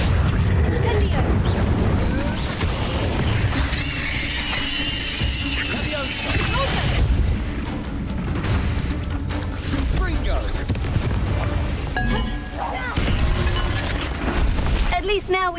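A fire spell bursts in Hogwarts Legacy, a loud booming explosion with crackling flames amid a dense, continuous game soundscape, followed by further rumbling bursts.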